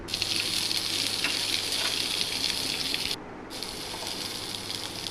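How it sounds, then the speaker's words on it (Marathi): Mustard seeds, curry leaves and onion sizzling in hot tempering oil, a loud steady hiss that keeps up throughout and dips briefly near the end before resuming. "त्यात मोहरीची फोडणी देऊया मोहरी कढीपत्ता त्यात कांदा ॲड करूया"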